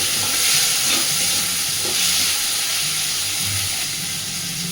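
Potato pieces fry in a pan, giving a loud, steady hissing sizzle with a faint low hum underneath, unbroken throughout.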